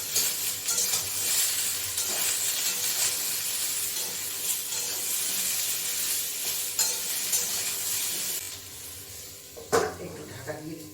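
Long beans dropped into a hot pan and frying, a steady close hiss and sizzle running throughout, with an occasional scrape or clatter near the end.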